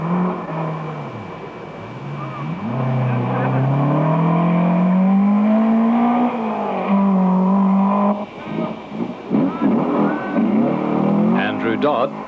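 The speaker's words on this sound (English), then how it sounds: "Andrew Dodd and the super quick VW really getting the power on the ground." A 1984 VW rally car at a New South Wales Rally Championship event, engine rising in pitch as it accelerates hard, loud and close, with the note climbing steadily and then breaking into choppy gear changes and revving, under a commentator's voice.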